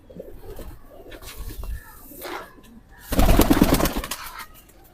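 Rampuri pigeons coo in soft, throaty rolling calls, several birds close by, swelling into a louder burst of cooing and rustling near the end.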